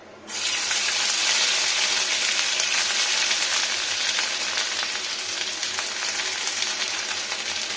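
Ginger paste hitting a little ghee in a pan on low heat, an abrupt onset into loud, continuous, even hissing sizzle that holds steady, close up, with no talk.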